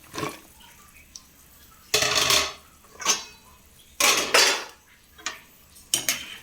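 Metal pot lid being lifted and set back down on a cooking pot of boiling okra, giving several sharp clanks and scrapes in separate bursts with quiet gaps between them.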